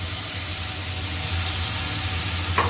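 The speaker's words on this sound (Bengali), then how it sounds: "এবার মশলাটাকে আমি ভালো করে কষবো" A spice paste of ginger-garlic paste, turmeric, a little cumin powder and chili powder fries in a pan for a Bengali fish curry with vegetables. It gives a steady, close sizzling hiss with no talk.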